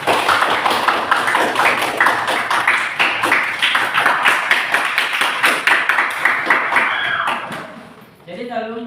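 Students in an Indonesian classroom applaud, a rapid burst of rhythmic clapping that lasts about eight seconds before fading out, followed by a voice speaking.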